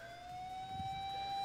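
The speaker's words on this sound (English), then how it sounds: "That's a loud-ass siren." A police siren in the visual novel game Fruit of Grisaia wails with a steady, slowly rising tone, moderately loud and alone without speech.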